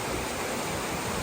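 Creek water running steadily beside a spot where freshly caught Copper River salmon are being cleaned in Alaska, a continuous broadband rush with no break, fairly close and alone without any voices.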